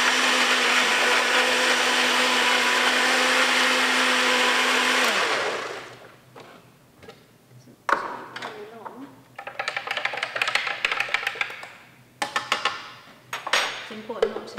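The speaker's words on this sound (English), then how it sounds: "ages in the blender because the motor can run out and burn out." A blender whirs loudly and steadily for about five seconds while mixing paper pulp stock solution, then winds down and stops, followed by clinking, rattling and handling sounds as someone talks.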